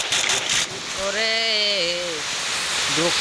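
Heavy storm rain pours in a steady broadband hiss, while a voice speaks briefly over it partway through.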